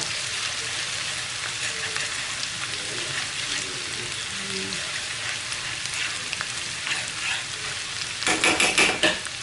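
Steady sizzling of crab and mussels frying in a pan with garlic, onion and ginger, a continuous crackling hiss that swells into a louder, busier burst of spattering near the end.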